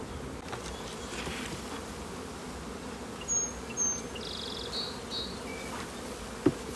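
Honey bees buzz steadily around big, strong beehives at a bee farm, a dense continuous drone close by, with a few brief louder passes of individual bees.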